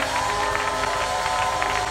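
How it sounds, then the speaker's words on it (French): A church congregation cheers and applauds at a preaching service, a dense steady wash of crowd noise with clapping and shouts filling the space without a break. "Donne des acclamations nourries à Jésus."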